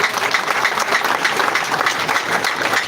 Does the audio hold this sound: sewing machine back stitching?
no